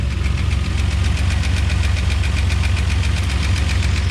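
A Chevy S10 engine fitted with a Comp Cam 280 duration camshaft runs steadily nearby, a rapid even valve tick riding over its low engine rumble with no talk.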